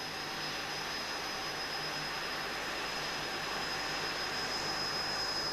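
An aircraft engine runs at idle during a practice dead-engine landing, a steady, even whine and rush of airflow that holds constant and fairly quiet throughout.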